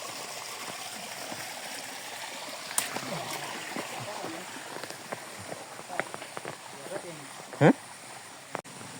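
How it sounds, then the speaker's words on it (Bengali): A small roadside waterfall at Alutila in Khagrachari keeps up a steady rushing flow, with nearby footsteps, a few splashes and a sharp knock near the end, while voices are heard faintly in the background. "ছোটোখাটো একটা ঝর্ণা"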